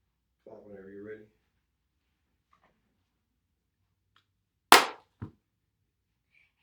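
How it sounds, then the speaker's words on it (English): A single sharp clap marks the start of a filming take in a studio, followed moments later by a smaller knock; a short burst of voice comes earlier, with near silence in between. "clap whenever you're ready"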